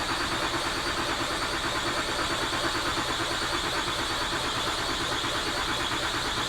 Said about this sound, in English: then we'll crank it and it should not start